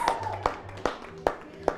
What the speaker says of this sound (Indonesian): Yang diberkati tepuk tangan buat Tuhan Yesus.